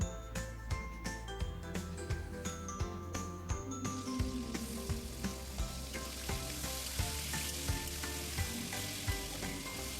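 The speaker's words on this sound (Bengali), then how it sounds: "সর্ষে ফোড়ন ফোড়নটা হয়ে যেতেই আমি চালতাগুলো এর মধ্যে দিয়ে একটু ভেজে নেবো" Elephant apple (chalta) pieces frying in white oil with a mustard seed tempering, giving a steady close sizzle with rapid crackles and small pops throughout, no voices.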